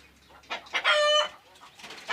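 Hens and roosters cluck in short bursts up close, with one drawn-out, squawking call standing out in the middle.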